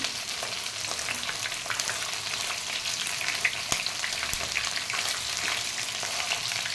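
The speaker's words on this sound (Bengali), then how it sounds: "আমি মাথাটাকে ভালো করে ভেজে নিচ্ছি।" A rohu fish head fries in hot oil, giving a dense, steady sizzle with occasional pops and crackles, close and continuous with no talking.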